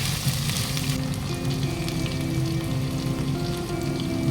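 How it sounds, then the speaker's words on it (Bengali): Ginger and green chili paste sizzling loudly in a pan of spices for chicken liver and gizzard masala, a dense, constant close frying hiss with no voices. "তারপরে দিয়ে দিচ্ছি আদা আর কাঁচা লঙ্কার পেস্ট দিয়ে মশলাটাকে একটু কষিয়ে নিতে হবে"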